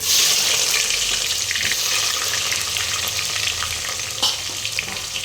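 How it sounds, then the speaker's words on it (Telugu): Sliced onions sizzle loudly in hot oil with whole spices like cinnamon for a Guntur-style pulao, a steady dense crackle with occasional stirring scrapes, close and continuous with no voices. "ఇదిగోండి ఉల్లిపాయలు వేస్తున్నా"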